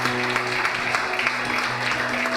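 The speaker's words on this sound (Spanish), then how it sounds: "Dale fuerte el aplauso al Señor" Church congregation applauding the Lord, a steady wash of clapping over sustained instrumental tones and a low hum.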